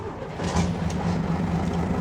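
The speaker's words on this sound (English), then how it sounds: "I'm liking the sound of the diesel engines." Diesel engines of a luxury speedboat running after start-up in the wheelhouse, a steady low idling rumble held at constant loudness throughout.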